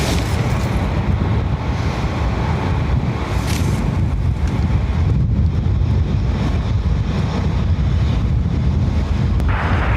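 Strong wind at Dublin Airport buffeting an outdoor microphone: a loud, continuous roaring rumble that swells and eases in gusts, heard alone with no voices.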